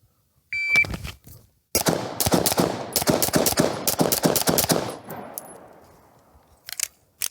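Carbine shooting drill drawn from concealment: a shot-timer beep, then a rapid string of sharp, loud gunshots fired in quick bursts over a few seconds, trailing off with echo and a couple of later clicks.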